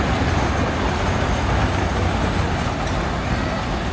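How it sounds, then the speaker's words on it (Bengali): A small children's ride train runs at the Bangladesh National Zoo in Mirpur, Dhaka, giving a loud, steady rumble and rolling noise. Broad outdoor din surrounds it without a break. "এই যে ট্রেন ছোট্ট একটা ট্রেন"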